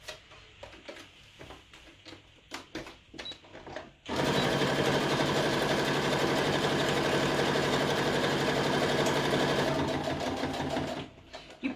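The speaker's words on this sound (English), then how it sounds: "so I'm going to sew that bit there" Sewing machine running steadily along a fabric edge for about seven seconds, loud and close after a stretch of light handling clicks and taps, with no talking.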